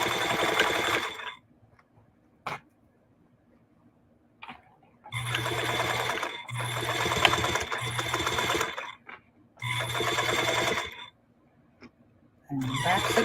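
A sewing machine stitches an upcycled denim jeans bag, loud close whirring bursts of a few seconds each broken by short pauses and clicks, ending with brief back-stitching runs.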